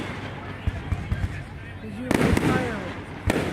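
Fireworks at a city fireworks show in Delaware boom and crackle, with dull distant thuds and then a sharp close burst, heard under a couple of people chatting.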